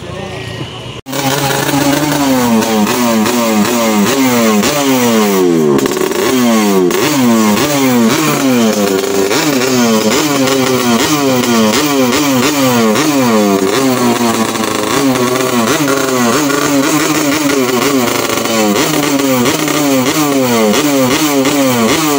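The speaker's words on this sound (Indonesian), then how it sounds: "Ya sekitar 20 motor ini tadi." About twenty motorcycle engines rev loudly and repeatedly, overlapping throttle blips rising and falling in a continuous roar close by.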